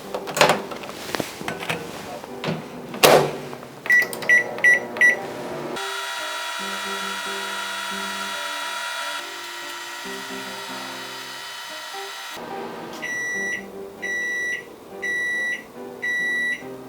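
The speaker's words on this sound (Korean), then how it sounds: "전자레인지 작동이 완료되었다면" A microwave oven heating a single pack of instant rice for two minutes: a few button beeps, then a steady electrical hum with a faint turntable drone, and a series of evenly spaced completion beeps at the end.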